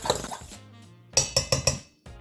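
A fork clinks against the side of a bowl while beating eggs seasoned with salt and pepper, four quick sharp taps close up after a spoken moment, with a brief spoken word at the end.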